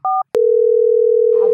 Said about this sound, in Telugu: అబ్బా ఎవరో ఫోన్ చేస్తారులా